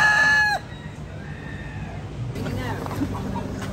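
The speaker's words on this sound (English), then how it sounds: "These roosters are driving Maggie crazy" Roosters crow loudly in Key West, one close bird at the start followed by fainter crowing and clucking from others farther off over outdoor background noise.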